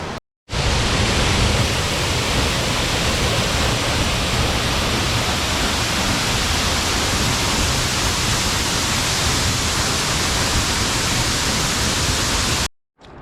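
A very belle mountain waterfall cascades on the climb toward the Settlo, a loud, dense, unbroken roar that fills the whole stretch, starting and stopping abruptly, with no voices.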